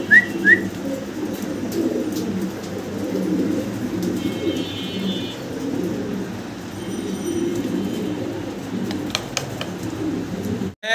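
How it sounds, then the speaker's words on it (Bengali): Romangal pigeons, a large fancy breed, cooing in a low, steady, continuous murmur close by, with a few short chirps and whistles above and no talking. "এক পেয়ার আমরা রোমানগাল কবুতর দেখতেছি"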